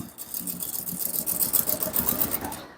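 A sewing machine runs continuously for a few seconds, stitching the neckline of an Ankara top with a fast, rattling needle rhythm, close up with no talking.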